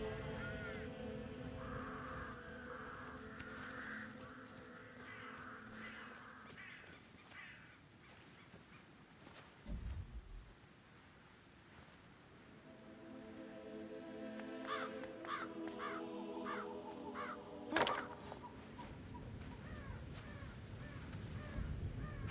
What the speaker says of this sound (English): Damn birds! If I could just get clear hits on those nests.